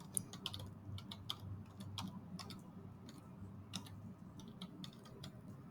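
Close, continuous typing on a computer keyboard with quick, irregular key clicks over a faint low room hum.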